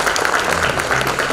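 An audience at a business federation event applauds, a dense, steady wash of clapping that fills the short moment from start to finish.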